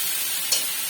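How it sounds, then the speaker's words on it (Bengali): Young jackfruit stir-fried in a pan gives a steady, close hiss of sizzling with a brief louder crackle midway, alone without talk. "এঁচোড়টাকে কষছি"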